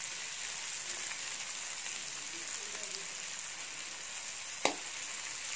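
Garlic fries in butter in a pan with a steady, even sizzle throughout and a single sharp tap near the end, close and moderately loud with no voices.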